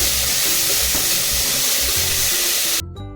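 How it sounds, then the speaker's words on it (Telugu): Mint leaves and tomato pieces frying in oil in a pan for chicken biryani, a loud, dense, continuous sizzle close by that cuts off abruptly near the end. "కడిగి ఉంచుకున్నటువంటి పుదీనా ఆకులను ఇందులోనికి యాడ్ చేయాలి యాడ్ చేసి బాగా ఫ్రై చేసుకోవాలి"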